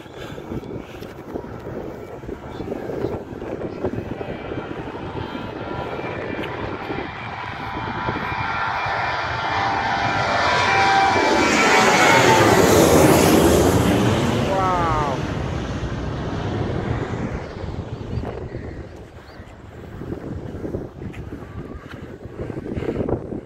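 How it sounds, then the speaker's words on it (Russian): A fixed-wing airplane passes low overhead near Batumi, its jet roar swelling from a distant rumble to a loud, wind-buffeted peak at mid-passage, then fading away with a falling whine. "Только что пролетел самолет прямо надо мной"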